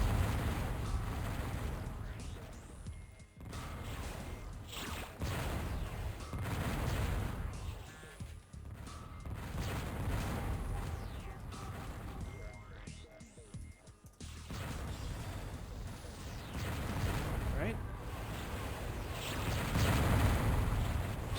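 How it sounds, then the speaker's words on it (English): Loud, continuous barrage of smart missile explosions and weapon blasts in the six-degrees-of-freedom shooter Descent, level The Observatory, during a multiplayer match, dense overlapping bursts with a brief lull midway. "Just a lot of smart missiles everywhere."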